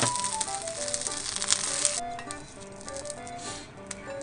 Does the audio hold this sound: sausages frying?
yes